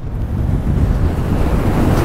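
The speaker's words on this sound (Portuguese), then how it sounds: "que vento frio!" Cold wind blows hard and steadily across an active volcano's slopes, a loud continuous low rumble of gusts buffeting the microphone with no voices.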